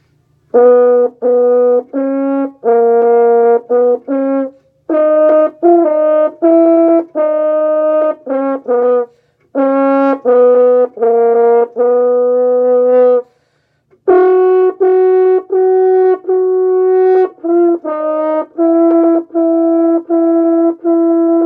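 A French horn plays a clear, sustained melodic line of held notes separated by short pauses, full and steady in tone.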